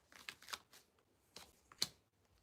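Tarot cards are shuffled close by in a quiet room, giving several short, soft riffling bursts separated by pauses.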